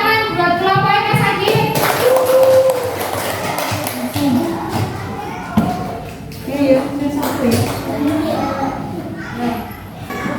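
Classroom schoolchildren giving a round of clapping for a discussion group, mixed with excited children's voices and chatter, with the clapping coming in bursts and rising and falling over the stretch.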